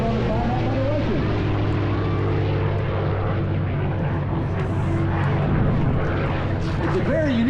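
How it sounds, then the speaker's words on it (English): A P-63 King Cobra warbird, its engine mounted behind the pilot, flies in at an air base airshow with a loud, sustained propeller drone under a commentator's amplified voice. "The B-63 King Cobra you see here today, interestingly enough, as she comes in from the right"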